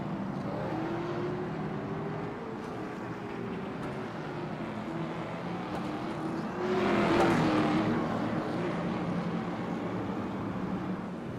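Race cars circle a track during a 150-lap stock car event, engines droning steadily at mid distance, with one car swelling louder as it passes near the middle before the field fades back to a continuous roar.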